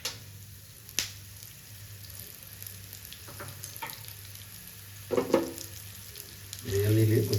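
A quarter cup of coriander seeds frying in hot oil, a steady low sizzle with occasional stirring scrapes and sharper crackles toward the end.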